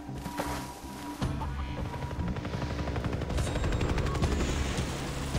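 A helicopter in the video game Far Cry 3 makes a steady, dense rotor roar that fills the whole stretch, loud and continuous, with rapid choppy pulses and gunfire-like crackle mixed in.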